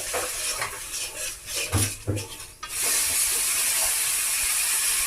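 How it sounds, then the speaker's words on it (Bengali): Spice paste for a vegetarian jackfruit curry fries in a pan, scraped and stirred with a few utensil knocks. Water then goes in and sets off a sudden loud, steady hiss that fills the rest, close and without talk. "সামান্য পরিমাণে জল দিয়ে আমি মশলাটাকে কষিয়ে নেব"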